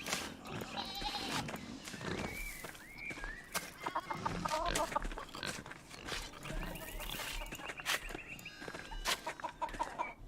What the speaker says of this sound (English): Now there's the chickens.